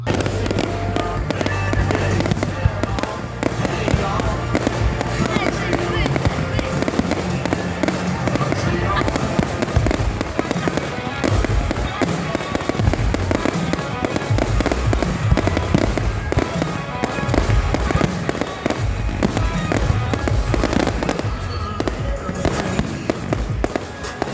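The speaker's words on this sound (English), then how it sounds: "Went to a fireworks show." Fourth of July fireworks show, with dense, rapid bursts, crackles and booms continuing nonstop for a long stretch, loud and close, while a crowd talks and calls out underneath.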